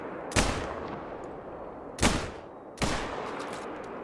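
Three sharp gunshots ring out at a black bear in a hunting video game, each a loud crack with a short decaying tail, spaced irregularly across a few seconds with no talking.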